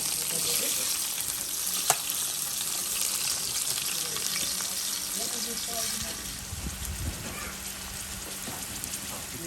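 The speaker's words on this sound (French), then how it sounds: "Là, avec les oignons, Ben, ça fait revenir les oignons" Onions frying in a pan for a pilchard tomato sauce give a steady, dense sizzle throughout, with a few soft clinks and low murmurs underneath.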